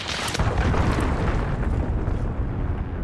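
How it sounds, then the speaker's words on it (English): A cruise missile strike explodes in a video game firefight, a loud booming blast with a sharp crack at the start, rolling into a dense, lingering rumble that slowly fades. "Allied cruise missile away."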